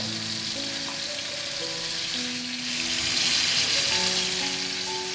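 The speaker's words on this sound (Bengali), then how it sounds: "আমি এইভাবে এইভাবে ভাজাগুলো করে নিচ্ছি হালকা ব্রাউন হয়ে যাচ্ছে" Chicken pieces fry in oil in a pan, a steady dense sizzle with a faint high hum running through it, growing slightly louder partway through, close by with no talking.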